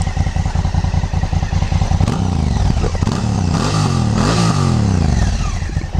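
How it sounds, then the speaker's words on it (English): A 2016 Honda CRF1000L Africa Twin on its standard exhaust revs and falls back, letting out loud close crackling pops and backfires as the engine note drops. "Pops, backfires for a standard exhaust."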